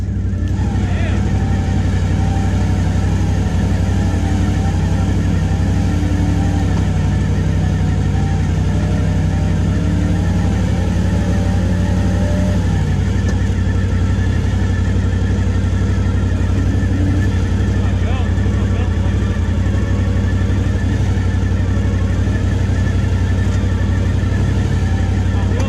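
A brand new Can-Am Outlander 1000 XMR ATV engine runs loud and steady, a deep sustained drone with slight pitch shifts as it is given gas, with people talking over it.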